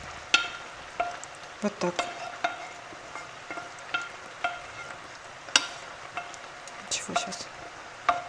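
Potatoes being added and stirred over mushrooms frying in a pan, soft sizzling under a run of scraping and clinking utensil strokes against the cookware, while someone talks briefly nearby.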